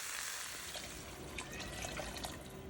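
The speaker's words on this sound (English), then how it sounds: "I'm adding enough water to make sure that the chicken is all covered" Water is poured into a pot over browned chicken with garlic and onion, a faint, steady splashing trickle that continues throughout.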